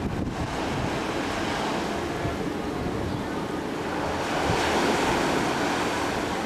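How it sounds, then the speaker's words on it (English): Steady ocean surf rolls in continuously near a house deck in Hawaii, a broad wash of waves mixed with wind buffeting the microphone, with no clear pauses between swells. "Can you hear the ocean?"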